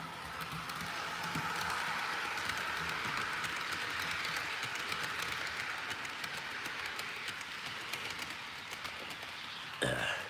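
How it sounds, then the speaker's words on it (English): A model Amtrak train on an HO scale layout rolls with a continuous, even rumble and hiss, steady from start to finish, ending in a short clatter. "we'll stop the Amtrak at the next passenger station"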